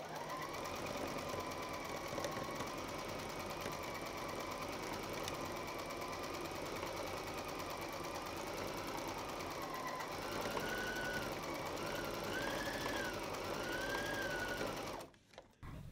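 A Brother GS2700 sewing machine runs steadily through free motion embroidery, its rapid mechanical stitching hum continuous and close for most of the clip before cutting off abruptly near the end.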